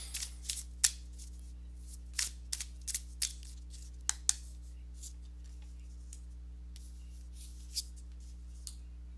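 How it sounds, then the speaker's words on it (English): Tarot cards are shuffled in quick, crisp riffles and soft flicks, close and quiet, with pauses between bursts over a low background hum. "So let me go ahead and give these cards a shuffle"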